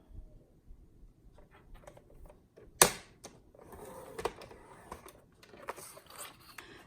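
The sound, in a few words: scoring cardstock paper for a triple fold card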